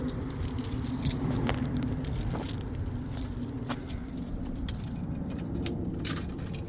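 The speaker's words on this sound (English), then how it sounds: "See, I got a wad of keys here" A bunch of keys jangles steadily and close by while someone tries the ignition of a dead Chevrolet Impala that won't start, with a few sharper metallic clinks over a low background hum.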